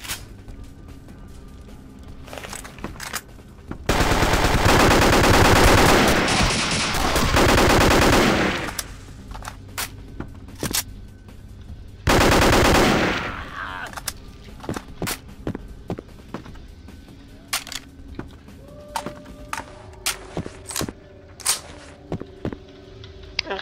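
Dragon breath gun firing in Vampire the Masquerade Bloodlines, two loud sustained bursts of continuous roaring fire amid scattered sharp shots and footsteps during gameplay.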